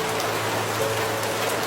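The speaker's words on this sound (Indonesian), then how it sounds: "Nunggu hujan reda, habis itu kita pulang." Steady rain pours down continuously at a fairly loud level, a constant wash of drops on a surface, with no talking over it.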